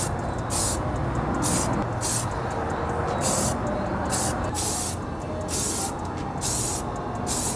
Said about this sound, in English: Now that the parts have been primed, I applied about 4 coats of primer to this.